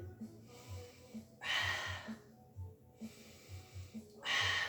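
Slow, steady breathing during a floor pilates session, with soft rhythmic breaths alternating with two louder, broad whooshing exhales, close to the microphone and without talk.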